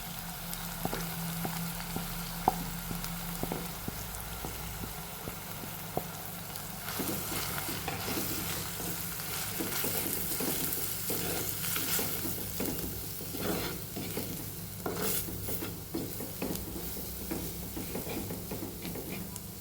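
Chilli powder with crushed garlic and ginger fries in a pan for a Kerala-style fish curry, a low crackling sizzle with repeated spoon scrapes and taps that grows busier and louder after the first few seconds, no talking.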